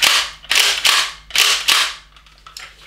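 An HDX pump-action rubber-ball defence gun racks five times in quick succession, each pump a sharp, loud, close mechanical clack, followed by softer clicks and rattles.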